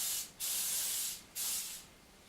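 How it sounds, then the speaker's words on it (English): Cooking spray hisses onto a baking pan in a home kitchen, two short close bursts with a brief pause between them. "go ahead and spray your pan."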